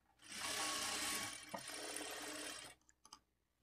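A sewing machine stitches a princess cut blouse in two continuous whirring runs separated by a brief pause, then stops with a few small clicks.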